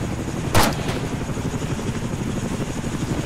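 A single sharp gunshot from the ARMA 3 military shooter game, loud and close, rings out once over a constant low rotor-like drone that continues after it, with no talking.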